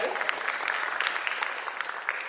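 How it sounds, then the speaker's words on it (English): A warm round of audience applause for a panelist at an ESG conference, dense, continuous clapping that fills the hall evenly for a couple of seconds. "We have a warm round of applause, please, for Sai Kishore Garu."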